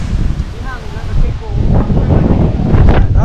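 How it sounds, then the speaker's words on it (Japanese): Strong seaside gust blasting across a bicycle rider's microphone, a loud roaring rumble building over three seconds with a faint voice briefly audible beneath it. "危ない危ない、突風ですね"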